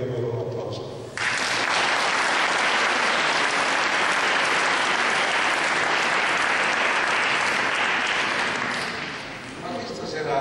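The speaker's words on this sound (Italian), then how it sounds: "quindi riserverei a loro un applauso" Loud, dense applause from an audience at an evening awards ceremony in Lequile, rising abruptly after a brief moment of talk and holding steady for several seconds before tapering slightly at the end.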